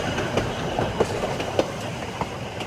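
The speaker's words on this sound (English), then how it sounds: "The narrow gauge track of this rail line allows the train to make the sharp corners of this steep canyon along the Urubamba River" A narrow gauge train runs through a steep canyon along the Urubamba River toward Machu Picchu, with a steady rumble and rhythmic clickety-clack of wheels heard from inside, no voices.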